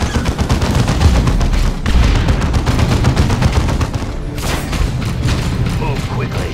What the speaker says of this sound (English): And then Avitus will shoot the spore mine.